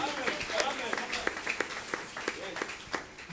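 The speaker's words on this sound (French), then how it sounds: "Applaudissez pour le Dieu Tout-Puissant." A church congregation gives sparse, scattered claps during a service. The claps are quiet and irregular, heard under a voice that keeps talking.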